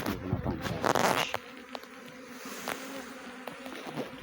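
A bee swarm outdoors gives a steady, fairly quiet buzzing hum, with a louder rustling burst near the start and individual bees droning past close by.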